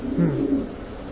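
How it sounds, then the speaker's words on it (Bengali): A male red checker racing pigeon coos softly and close up, one low, throaty rolling coo with no voices over it. "এটা একটা সিঙ্গেল রেসার নর কবুতর, রেড চেকার।"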